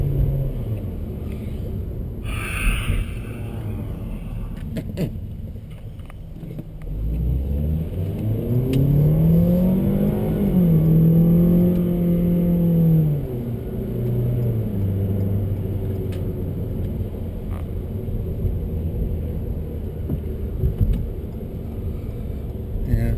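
A 2022 Ford EcoSport in drive mode on all-season tires accelerates, its engine note rising and sweeping through gear changes with a steady road rumble and whir heard from inside, no talking.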